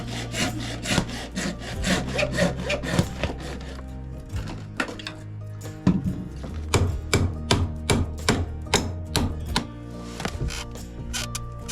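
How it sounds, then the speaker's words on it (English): A hacksaw cuts through a rusty water pipe in rapid, rhythmic back-and-forth strokes, pausing briefly before resuming with a steady rasping pace, close by and without talk. "I got a hacksaw"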